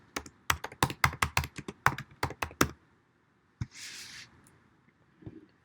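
Rapid keystrokes on a computer keyboard, a quick burst of crisp taps close by in a quiet room, followed by a short pause and a couple of softer clicks.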